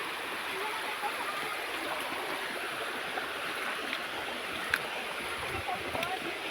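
Steady broadband rush of river water and falls flowing near a subdivision, continuous and fairly even throughout with small splashy bursts, no talk over it.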